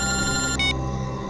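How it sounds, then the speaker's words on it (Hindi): A telephone rings loudly indoors in a tense crime-drama scene, its bright electronic trill running steadily with a short higher burst partway through and no talk over it. "एसीपी साहब का फोन।"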